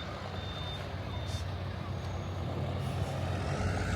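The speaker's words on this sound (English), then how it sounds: "So this is the bus that we got, and it goes all the way to Narvik." A bus bound for Narvik idles in Reine in Norway's Lofoten Islands, its steady diesel rumble continuous throughout, with a faint high reversing beep sounding twice at moderate distance.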